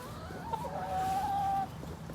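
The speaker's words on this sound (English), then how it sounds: "So let's see how the Kramer chickens are doing." A chicken gives a drawn-out, rising cluck-like call up close, with faint farmyard ambience and softer clucks around it.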